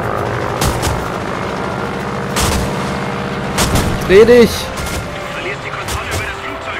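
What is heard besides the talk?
gunfire hitting plane in video game World of Warplanes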